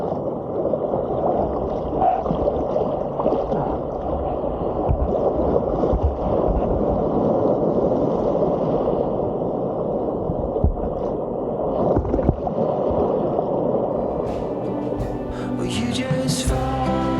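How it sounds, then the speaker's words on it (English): Ocean waves battering a snorkeler trying to take off his fins, heard as a continuous churning, gurgling wash of water with sharp splashes and bursts near the end. "here's a clip of me getting battered by the waves while trying to take my fins off"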